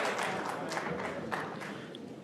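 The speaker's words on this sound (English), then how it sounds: "you can hear the support he's getting from this Crucible crowd" Crucible crowd at a World Snooker Championship semi-final applauding, a steady wash of clapping from a large indoor audience heard throughout, fairly loud and unbroken.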